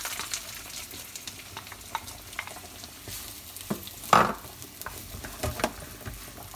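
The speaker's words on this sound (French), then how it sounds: "je vais faire revenir des oignons et de l'ail émincé" Onions and minced garlic fry in oil, giving a soft steady sizzle broken by scattered stirring clicks and scrapes, one louder clatter near the middle, all fairly quiet and close.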